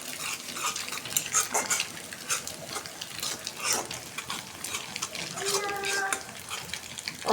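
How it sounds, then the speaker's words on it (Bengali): Spices frying in a pan, a gentle sizzle with intermittent stirring clatters, fairly quiet, with a brief tonal household sound near the end. "মশলা দিয়ে দিচ্ছি, এখন ভাজে নেব।"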